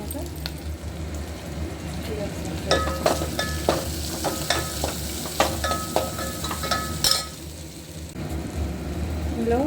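Raw banana curry fries in a pan with a steady sizzle, broken by repeated clinks and scrapes of a spoon stirring against the metal.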